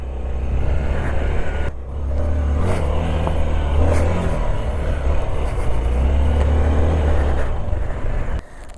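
An off-road vehicle drives through rough, snowy mountain terrain, its engine a loud, continuous low rumble with brief dips, close and steady throughout.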